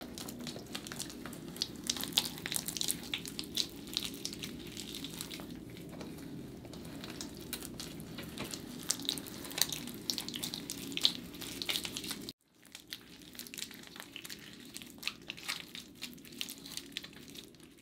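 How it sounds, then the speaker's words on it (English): Wet, squishy cassia hair treatment being worked through hair, a soft continuous squelching and crackling close up that runs steadily, then breaks off briefly near the end before resuming. "you guys can just listen to these squishy ASMR-ish Cassia"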